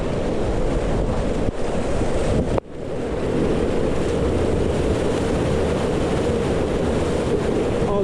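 Ocean surf rushes and churns continuously with heavy wind buffeting the microphone, a broad roaring wash broken by a brief dropout.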